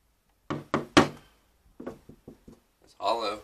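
Knocks on a hollow wall behind a door inside the old Ross House in Bellaire, Ohio: three loud, close raps, then four lighter taps, followed by a person talking.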